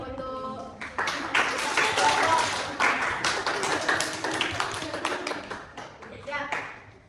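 A classroom group claps together in a quick, irregular burst of hand claps lasting several seconds, fairly close and tapering off toward the end, with some voices mixed in.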